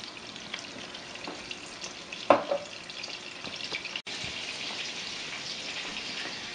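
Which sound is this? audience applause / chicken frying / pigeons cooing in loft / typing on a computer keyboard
chicken frying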